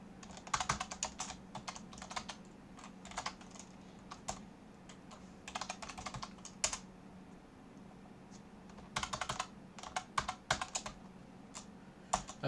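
Computer keyboard typing in short irregular bursts of crisp clicks separated by quiet gaps, fairly close and faint.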